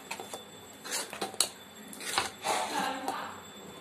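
Moong dal payasam being stirred in a pot with coconut added, giving scattered metallic scrapes and clinks of a spoon against the pot, irregular and close, with no talk.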